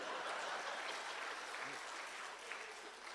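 Audience members at a Hindi kavi sammelan comedy poetry show clap, a dense, steady patter of many hands that holds for several seconds and then thins slightly toward the end.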